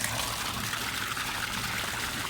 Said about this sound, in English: pumping the water in quite nicely, so that's going to fill up that chamber for us pretty quick